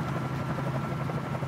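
A Bell 47J Ranger helicopter in Microsoft Flight Simulator, a close, steady rotor and engine drone with a low throbbing hum running continuously.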